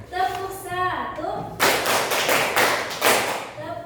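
A classroom of students claps together in a short patterned rhythm, several sharp group claps after a teacher's spoken cue, close and fairly loud.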